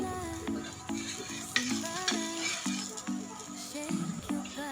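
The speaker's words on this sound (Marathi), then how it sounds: "मीडियम गॅसवरतीच पराठा भाजून घ्यायचा" A methi paratha roasts with oil on a pan over medium gas, giving a steady close sizzle with soft scraping and stirring sounds throughout; a voice is heard over it.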